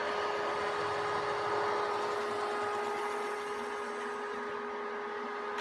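An inverter-driven electric motor gives a steady, loud whine whose pitch drifts as its speed changes, with no voices.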